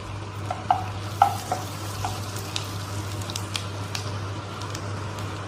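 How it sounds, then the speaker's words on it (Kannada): Cumin seeds frying in melted butter in a pan, a quiet continuous sizzle with a few soft pops and clicks early on, over a steady low hum, no voices. "ಬೆಣ್ಣೆ ಕರಗಿದ ತಕ್ಷಣ ಒಂದು ಟೀ ಸ್ಪೂನಷ್ಟು ಜೀರಿಗೆ ಹಾಕ್ಕೋತಾ ಇದ್ದೀನಿ"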